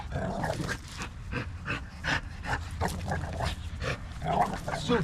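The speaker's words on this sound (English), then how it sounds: "Let him experience that dog." An extremely reactive, dog-aggressive pit bull growls and barks in repeated bursts, with panting and whimpers between them, close by and fairly loud throughout.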